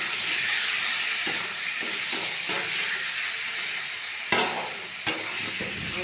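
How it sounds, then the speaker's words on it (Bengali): Garlic frying with meat in a pan gives a steady, close sizzle and hiss, broken by a few stirring scrapes and two sharper clacks near the end; no one speaks. "রসুনটা একটু ভেজে নিলে কাঁচা গন্ধটা থাকে না।"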